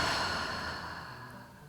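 A slow, soft exhale through the mouth during a yoga relaxation, a close, breathy sigh that gradually fades out.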